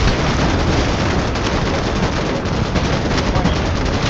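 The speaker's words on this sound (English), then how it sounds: "I'm gonna use this fucking turret" Mounted turret in Starship Troopers Extermination firing against attacking bugs at a base, a loud, dense, unbroken stream of automatic gunfire and blasts from start to finish.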